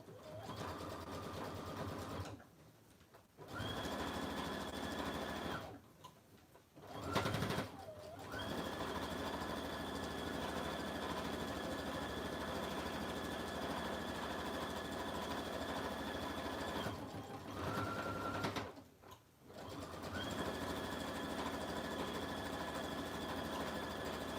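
A sewing machine stitches around an oven mitt in long, steady runs of fast mechanical whirring, stopping briefly for a few short pauses before resuming, close and even in level.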